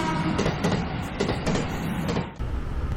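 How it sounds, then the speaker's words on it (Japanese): Inside a two-car local train in Japan, a continuous loud rumble of wheels and motor with rattling and clanking running steadily throughout, easing slightly near the end. "この電車に乗って向かいます。"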